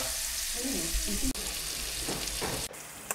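Bitter gourd with onions is sautéed and stirred in a pan, a steady close sizzle with scraping stir strokes and a couple of sharp utensil knocks.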